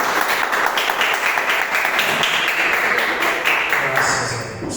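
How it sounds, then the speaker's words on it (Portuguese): A church congregation gives a round of applause during a sermon, a close, steady burst of many hands clapping for several seconds, tapering slightly toward the end. "E dê uma salva de palmas para o Senhor Jesus."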